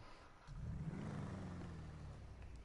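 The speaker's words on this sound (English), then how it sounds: "It's a muscle car, sounds pretty nice too." The Voodoo Custom muscle car in GTA 5 gives a low, rumbling engine drone that swells in after a brief pause and holds steady, faint and muffled, with no talking.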